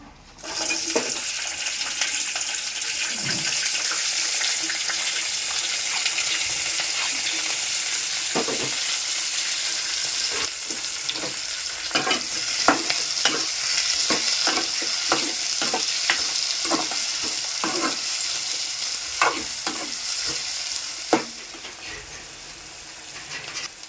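Onions and chillies sizzle steadily in a hot pan for a village-style bottle gourd chicken curry, with a continuous frying hiss and repeated clacks of a spoon stirring, close and loud, no talking.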